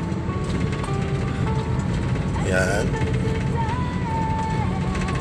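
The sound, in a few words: car engine while driving a manual car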